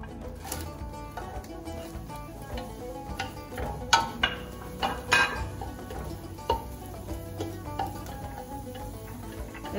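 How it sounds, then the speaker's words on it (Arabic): Chopped onion drops into a pot for vegetable and meatball soup with soft sizzling and scattered clinks and taps of a utensil against the pot, a few sharper knocks standing out. "هنا غادي نزيد البصله"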